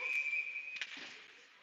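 A referee's whistle sounds during a hockey game as one sharp, sustained shrill blast lasting nearly a second before fading into faint arena noise.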